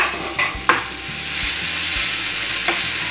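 Kadai paneer sizzles steadily in a covered pan over a medium flame, a loud, continuous hiss broken by a few soft knocks and clinks.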